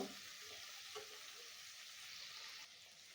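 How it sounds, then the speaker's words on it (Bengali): Chopped tomato and green chili sautéing in a pan, a steady soft sizzle with faint stirring scrapes throughout, close by and with no voices. "তো গাইস, আমি এখানে টমেটো কুচি আর কাঁচা লঙ্কার টুকরোগুলো এখানে ঢেলে দিয়েছি। এগুলো আমি একটু ভালো করে কষিয়ে নেব।"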